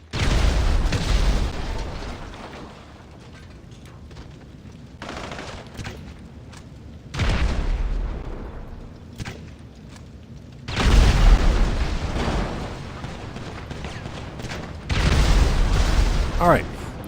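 Several heavy grenade explosions in the GTA 5 Online video game, each a loud booming blast with rumbling decay, bursting at irregular intervals with quieter gaps between.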